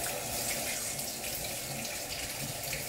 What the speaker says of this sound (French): Je vais rien rincer ma cuillère à mesurer.